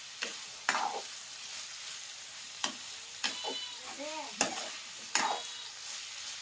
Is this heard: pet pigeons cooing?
no